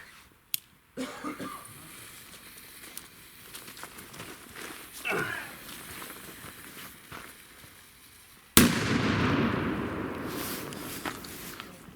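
A Zena Colour Bang firecracker goes off with a sudden loud bang, followed by a sustained, close crackling hiss. A few faint snaps come beforehand.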